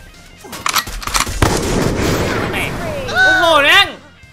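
Gunfire in the Free Fire battle royale game, with a burst of sharp, rapid shots up front followed by sustained rumbling noise and rising, warbling electronic tones near the end, while a voice talks over it.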